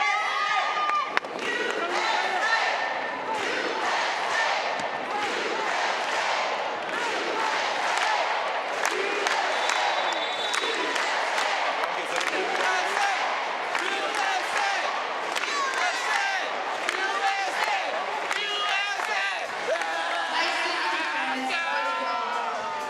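A large arena crowd at a women's VNL 2023 volleyball quarterfinal, USA versus Japan, cheers and chants loudly and continuously, with thumping noisemakers throughout.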